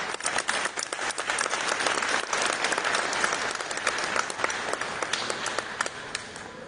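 Loud, sustained audience applause at a ceremony honoring regional winners of a traditional art and crafts collection, many hands clapping steadily with sharp individual claps standing out throughout.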